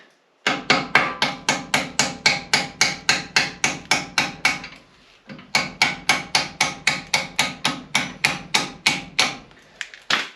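Hammer tapping a brake caliper pin on a 1975-1991 Ford Econoline, two runs of rapid, evenly spaced sharp metallic blows, loud and close, separated by a brief pause, with no speech.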